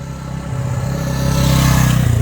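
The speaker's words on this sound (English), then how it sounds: "Virtually silent motor. Nice little exhaust rumble." A 1975 Honda XL350 motorcycle idles steadily nearby, its low exhaust rumble throbbing in an even pulse and building slightly louder over a couple of seconds, with no talk.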